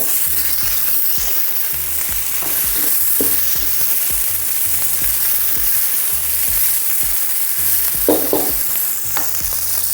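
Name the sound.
chillies and vegetables frying and sizzling in a pan for nasi goreng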